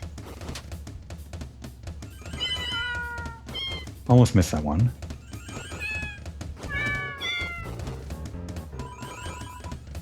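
Cats in the video game Deltarune meowing one after another as they are petted, tuneful meows layered over game music, with a voice talking briefly partway through.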